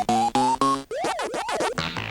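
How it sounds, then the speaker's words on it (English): Super Mario mushroom power-up effect from the video game, a quick run of short rising chiptune blips followed by warbling swooping tones and a closing buzzy note, all within two seconds, no talking. "The Mario Fireflower sound effect was in fact the sound of the mushroom which enlarges Mario to his larger size."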